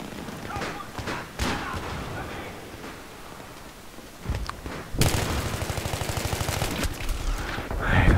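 Bursts of M16 rifle fire in Battlefield 3 multiplayer, loud and rapid from about five seconds on, with earlier scattered shots and thuds under game noise and talk.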